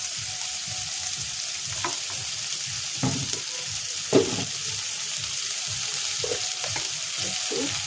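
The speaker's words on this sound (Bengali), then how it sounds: "পটলটা একটু ভাজা ভাজা হোক" Steady sizzling of potato and pointed gourd frying in oil, with occasional stirring clatters and scrapes of a spoon against the pan.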